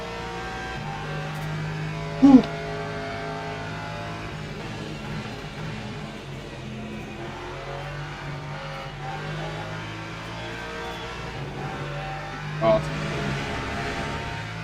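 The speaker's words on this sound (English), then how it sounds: "Love the sexy rumble from the engine." A low, steady engine rumble from a Lexus race car in the Le Mans Ultimate racing game hums continuously beneath a driver who talks, with two brief louder bumps.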